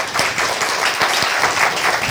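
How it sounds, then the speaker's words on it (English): A warm burst of audience applause for jazz saxophonist Joe Lovano, loud and close, with dense clapping and a few distinct nearby claps standing out from the crowd. "How about a warm round of applause for Joe Lovano?"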